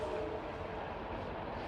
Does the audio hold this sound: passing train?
yes